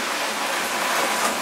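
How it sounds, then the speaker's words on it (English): Rain patters on a greenhouse roof as a dense, even hiss of drops, steady and fairly close throughout the short stretch, with no talking. "can you hear the rain on the greenhouse roof?"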